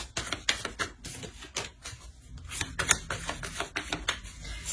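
Tarot cards are handled and drawn, giving faint, rapid papery clicks and taps in quick irregular bursts, close and soft.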